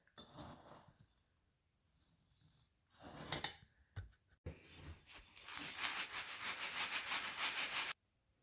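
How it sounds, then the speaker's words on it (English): Acorn meal ground by hand toward a fine powder, a scraping, rubbing grind in short bursts at first, then a steady, louder stretch of continuous gritty grinding close by before it stops abruptly. "I can sift it and keep grinding it until it is all a nice fine powder"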